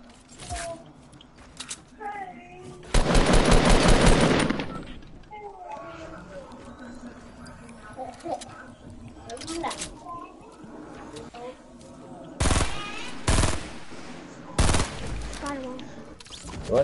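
Rapid bursts of SMG fire crackle through a battle royale video game, one long sustained volley early on and several shorter bursts later, mixed with clicks and mechanical clatter while players talk throughout.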